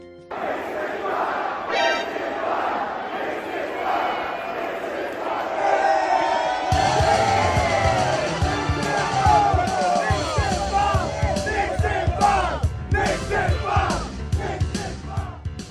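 A large Philadelphia arena crowd at a 2024 NBA playoff game roars and yells, swelling louder midway into sustained cheering and shouting, with scattered voices rising above the din.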